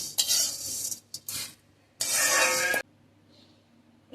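Spoon stirring chana dal and urad dal roasting in oil in a pan, two bursts of close scraping and sizzling separated by a quiet gap, then near silence.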